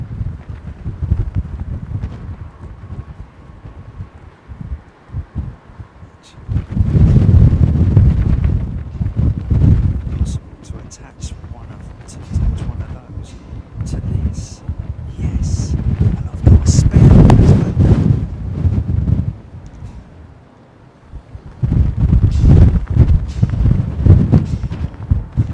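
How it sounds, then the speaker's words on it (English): Wind buffets the microphone in strong, rumbling gusts at London Heathrow Airport, rising and falling over and over, loud and close, with brief calmer lulls between. "It's gusting right now"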